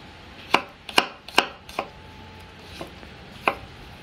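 A knife chops garlic on a cutting board, several sharp, close knocks in a quick irregular run, then a pause and one last chop, with no talking.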